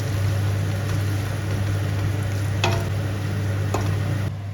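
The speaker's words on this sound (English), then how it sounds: "Once the oil is hot, throw in those onions. And stir them frequently so they fry evenly." Onions frying in hot oil for chicken biryani, a broad steady sizzle over a low constant hum, with a couple of sharp stirring scrapes and no speech.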